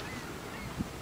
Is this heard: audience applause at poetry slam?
no